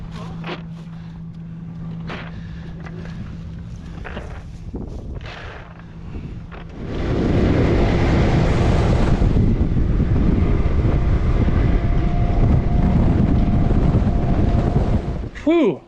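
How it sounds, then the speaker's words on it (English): Strong wind of about 20 to 25 mph gusts over Florida Intracoastal Waterway water, first as lighter buffeting and then a loud, steady roar against the microphone for most of the clip, ending abruptly. "It was blowing like 20, 25 mile an hour out there, as you can see."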